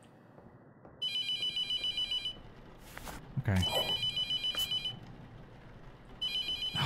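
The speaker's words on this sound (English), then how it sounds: "That shit can ring all fucking day." A telephone rings in the horror game The Mortuary Assistant, two bursts of insistent electronic trilling separated by a gap, with a brief thud and a short spoken word in between.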